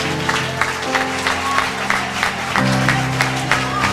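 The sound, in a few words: church congregation applause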